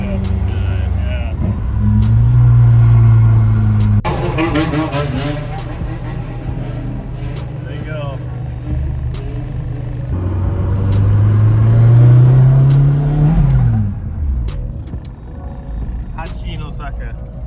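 A Toyota AE86 Hachi's 4A-G engine revs up loudly twice in the car's cabin, pitch climbing and then dropping back to idle, with a brief spoken remark over the engine noise.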